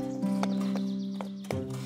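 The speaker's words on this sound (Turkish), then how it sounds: "Prenses vedalaşıp atı Falada'ya binmiş, yardımcısı ise bir eşeğe." Horse hooves clip-clop as a princess rides off on her horse, with a soft whinny-like tone and a steady low musical drone underneath; a few distinct hoof knocks stand out near the end.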